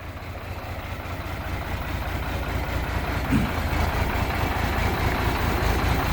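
A Locky 195 motorcycle converted to a 300 engine idles close by, a steady, loud low rumble with an even throb that holds throughout.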